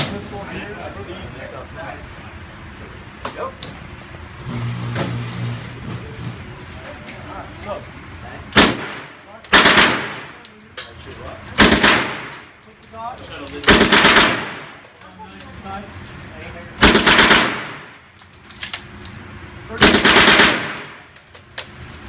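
A machine gun fires at a Las Vegas shooting range in six loud, short bursts spaced a few seconds apart, close by, following quieter talk between people at the start.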